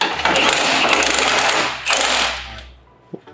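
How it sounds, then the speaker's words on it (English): A wrench tightens the bottom bolt of a Lexus GX460 suspension during a lift install, making loud, dense mechanical rattling in two long bursts that fades out, with one short knock at the end. "Now we're going to go ahead and tighten the bottom."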